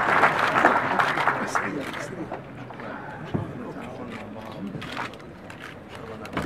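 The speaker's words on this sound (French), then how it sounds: "Vous pouvez les applaudir pour cette signature de cette première convention." Applause from an audience at the opening of an economic forum in Fez marks the signing of a first cooperation convention, a dense spread of clapping that swells early and then thins, with talk and crowd noise mixed underneath.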